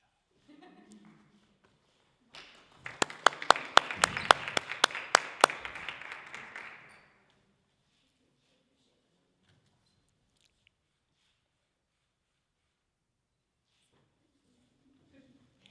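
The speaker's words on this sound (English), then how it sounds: "Let's give Catherine and Carolyn one more round of applause." Audience applause at a Master of Arts in Education hooding ceremony, a burst of clapping rising suddenly and lasting about four seconds before stopping, followed by near silence with faint voices at the edges.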